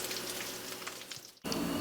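Thin pork chops sizzle and crackle in hot oil, a soft steady frying hiss that briefly dips before resuming.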